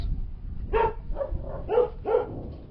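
Several dog barks from three dogs, about four or five, in an uneven series at moderate distance, with a low background rumble between them, in Ukraine.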